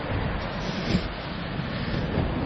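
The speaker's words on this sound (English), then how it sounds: "Well, the wind's still going." Strong winter wind buffets the microphone beside Red Tarn, a mountain lake above Glenridding in the Lake District, as a loud, continuous, rough roar with no talking.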